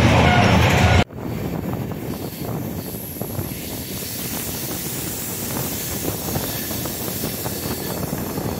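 Karnataka Sampark Kranti express hauled by a diesel locomotive running on the line to Pune, a steady loud rumble and rolling rail noise after a sharp break, with wind buffeting throughout.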